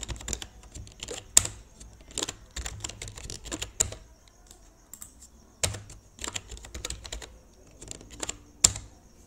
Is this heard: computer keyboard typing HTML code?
yes